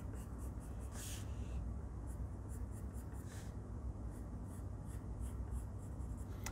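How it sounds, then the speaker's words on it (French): A wooden pencil scratches out a mouth on a craft robot, a close, continuous dry scraping with small strokes and a few sharper scratches, over a faint steady hum. "crayon de bois, et on va dessiner une belle bouche"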